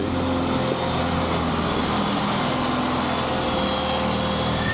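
A classic Mini engine idles steadily and close by, a constant droning hum with a slightly buzzy, uneven tone and no talking over it.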